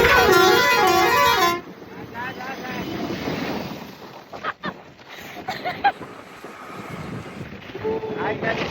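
A vehicle horn blares loudly and continuously for a second and a half on a village road, then gives way to wind buffeting and people talking nearby.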